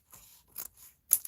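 Paper is trimmed with scissors during collage work: a few quiet, crisp snips spaced about half a second apart, close by, with no talking.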